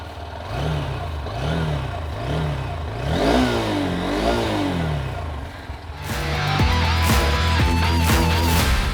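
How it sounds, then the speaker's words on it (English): A 2020 Honda Hornet 2.0 motorcycle engine revs repeatedly, rising and falling in pitch, then a louder, busier stretch of engine roar and gear changes toward the end, close and loud. "let's listen to the exhaust note of the motorcycle"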